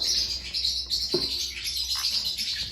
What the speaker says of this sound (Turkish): Burada yavrular var. Şurada yavrular var.